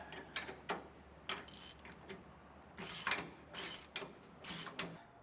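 Wrench work tightening bolts on a Roadmaster rear anti-sway bar on a 2022 Ford F-53 chassis: a series of short metallic ratcheting clicks and clanks in uneven bursts, close by and fairly quiet.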